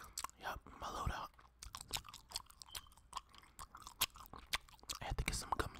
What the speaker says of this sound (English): I had to get some gum chewing in there.